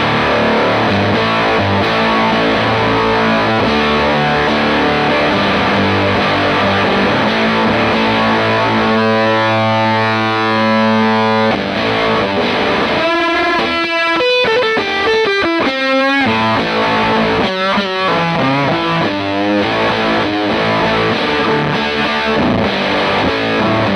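Electric guitar, a Gibson SG with a single P90 pickup, played through a JHS Supreme fuzz pedal: thick, buzzing distorted chords and sustained notes, then choppy single-note runs, loud and continuous.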